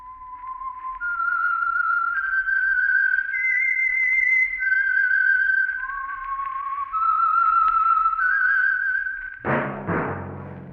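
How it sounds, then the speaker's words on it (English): Whistled theme tune of The Whistler radio mystery program, a lone clear melody of sustained, sliding notes rising and falling, followed by a sudden orchestral chord at the close. "That whistle is your signal for the Signal Oil Program, The Whistler."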